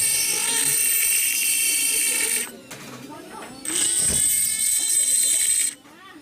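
A high-pitched electric dental trimmer or grinder whirs loudly while cutting notches into a softened, soaked dental cast, running in two long bursts split by a short pause.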